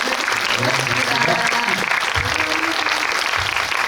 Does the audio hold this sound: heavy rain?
no